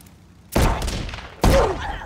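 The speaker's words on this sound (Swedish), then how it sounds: "ett skott i huvudet är med revolvern" Two sharp, loud revolver shots from the survival video game Sons Of The Forest ring out nearly a second apart, each with a brief ringing tail and no talk over them.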